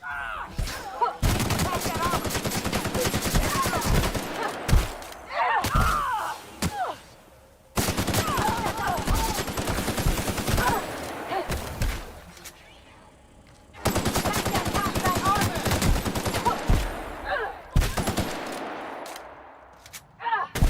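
Gunfire in the video game The Outer Worlds: Spacer's Choice Edition, with long loud bursts of rapid shots broken by short pauses, and a player's voice heard in the gaps.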